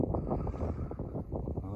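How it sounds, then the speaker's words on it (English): Strong desert wind among sand dunes buffets the microphone in a loud, low rumbling roar that fills the whole short stretch, with no other sounds cutting through. "It is quite a lot of wind."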